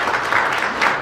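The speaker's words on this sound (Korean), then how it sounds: "좋은 강연을 해주신 임종성 의원께 다시 한번 큰 박수 부탁드리겠습니다" An audience at a Korean community lecture applauds lawmaker Im Jong-seong, a brief burst of crowd clapping heard moderately close and steady for about a second.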